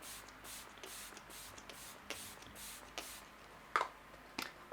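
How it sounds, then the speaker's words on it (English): A faint, fine hiss of a makeup setting spray bottle misting in several short, rhythmic puffs, with light handling noises near the end. "Let me just spray some into the atmosphere."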